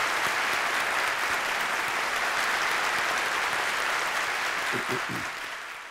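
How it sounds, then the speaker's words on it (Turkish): An audience at a university theology lecture applauds to welcome host students, sustained even clapping from a large room that runs steadily and then tapers off at the end. "misafirperver öğrencilerimizi alkışla bir hoş geldiniz demek istiyorum"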